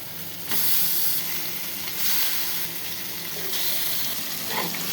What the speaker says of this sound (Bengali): এবার মাংস আর মশলা ভালোভাবে কষাই দেব।